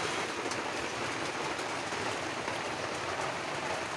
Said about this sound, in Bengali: বৃষ্টির সাউন্ডটা আপনি পাইতেছেন।